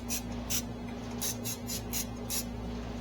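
Cooking spray hisses onto a home burger griddle in a series of short bursts, several spaced puffs over a steady low hum.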